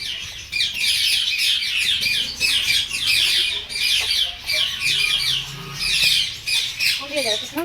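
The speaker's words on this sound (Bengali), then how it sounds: "চলো দেখো কতগুলো পাখি রয়েছে এখানে।" Many birds at a zoo squawk and chatter in dense, repeated bursts, loud and close and almost continuous, while people talk quietly underneath.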